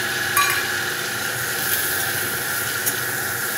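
Cumin seeds and dry red chillies sizzle in hot oil in a pan, a steady loud hiss with bright crackles and a few sharper pops along the way, with no voices over it.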